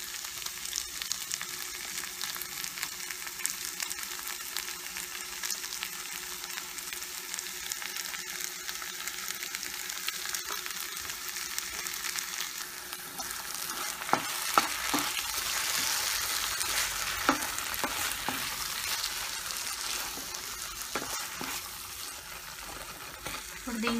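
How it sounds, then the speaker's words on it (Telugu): Ground spinach for palak paneer sizzling in a hot pan, a steady, moderate frying hiss throughout, with a run of sharper scraping stir strokes in the latter half. "గ్రైండ్ చేసి పెట్టుకున్న స్పినాచ్ వేసుకోవాలి."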